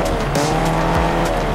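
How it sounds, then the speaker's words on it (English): A car is driven in the Fortnite video game, its engine droning steadily and loudly throughout, with tire squeal and skidding noises mixed in. "I'm driving a car."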